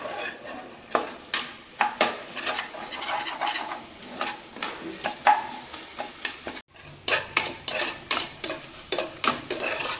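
Salted spinach gravy stirred in a pot, with repeated close scraping strokes of a spoon against metal over a light bubbling sizzle and a brief pause partway through.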